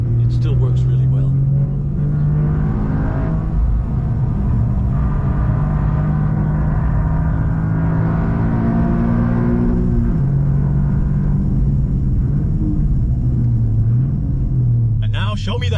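Toyota GR Yaris rally car driven hard through corners, its engine droning loud and steady with rising and falling pitch as it accelerates and brakes, and people talk over it throughout.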